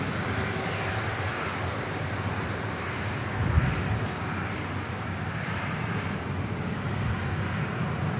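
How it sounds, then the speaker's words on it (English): An ITA airliner flying for EasyJet departs for Milan Linate, a steady broad jet roar held at moderate distance throughout. "We also have the ITA operating on behalf of EasyJet on the way out for the return leg to Milan Linate."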